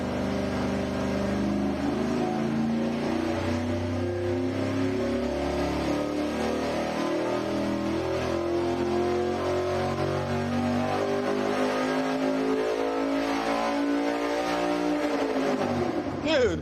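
A deep V8 engine with dual-quad intake rumbles and revs steadily for several seconds, its pitch rising and falling with throttle, loud and close, with voices talking faintly underneath.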